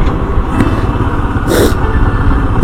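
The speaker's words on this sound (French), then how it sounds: "même s'il pleut, je préfère quand même conduire ma moto" Motorcycle riding in the rain, a steady close engine drone with rushing wind and road noise and a brief louder burst partway through, no talk.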